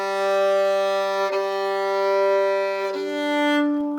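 A bowed violin sustains a steady open-string tone with bright harmonics, swelling gently and restarting with each bow change, played alone.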